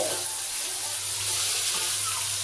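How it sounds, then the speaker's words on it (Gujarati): Vegetables tempering in hot oil in a pan give off a steady, even sizzle and hiss throughout, fairly close, with a low hum beneath and no voices. "શાક વઘારે છે"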